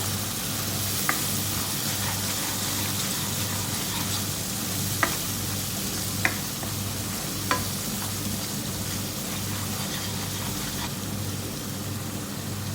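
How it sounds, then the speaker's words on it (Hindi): Salt, red chili powder and coriander powder fry in hot oil for chana dal tadka, a steady close sizzle that runs unbroken throughout, with a few faint clicks of a utensil against the pan. "भूनेंगे मसाले।"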